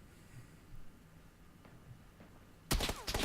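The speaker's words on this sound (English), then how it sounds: "someone is shooting at me" A sudden loud burst of gunfire from a PUBG match erupts near the end, several close shots in quick succession after a stretch of faint ambient game noise.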